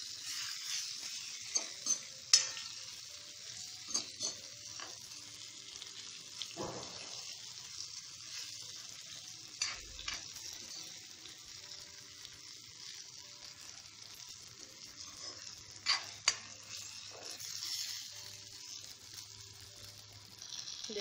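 Stuffed okra (bhindi) frying in a pan, a steady soft sizzle under occasional scrapes and clinks as a spoon stirs and turns the pieces, close and fairly quiet.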